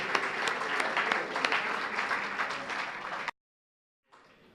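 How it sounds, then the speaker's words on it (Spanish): A church congregation at a national pastors' and workers' retreat applauds loudly and continuously, the dense clapping cutting off abruptly into silence before a faint murmur resumes. "Para ti, Señor, este aplauso."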